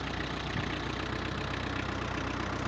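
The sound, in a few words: Kubota X-20 tractor rear hitch lifting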